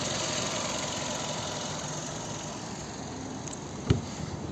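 A 2007 Kia Ceed with a 1.6 petrol engine and manual gearbox idles steadily under the hood, a low even hum with one brief knock near the end.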